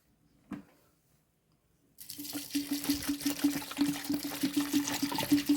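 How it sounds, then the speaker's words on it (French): A large amount of water pours steadily onto bissap (hibiscus) leaves in a container, a continuous splashing rush that starts after a brief knock and near-silence and runs to the end. "Ensuite, nous allons rajouter une grande quantité d'eau."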